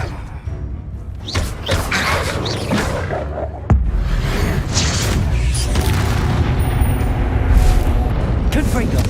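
A Confringo blasting curse in the video game Hogwarts Legacy bursts into booming explosions, with a sharp blast midway followed by rumbling bangs and a voice speaking throughout.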